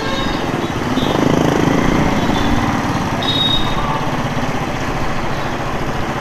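A motorcycle engine runs steadily and close by, a continuous mechanical drone with a rapid low pulse lasting the whole stretch; the bike has not been ridden in many days and gives an odd noise from around the silencer.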